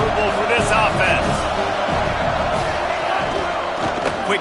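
Stadium crowd at a college football game involving USC, a dense continuous roar heard throughout with a commentator speaking over it.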